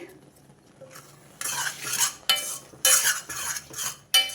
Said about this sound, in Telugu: వెల్లుల్లిపాయ జీలకర్ర వేసి ఒక తిప్పు తిప్పేసుకొని వచ్చండి